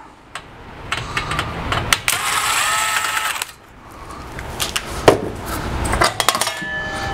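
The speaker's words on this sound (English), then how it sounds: "And I'll go back to using the butcher knife." A butcher knife pries apart plastic parts of an Epson P600 printer, with bursts of scraping, creaking and snapping and a few sharp clicks, close and fairly loud.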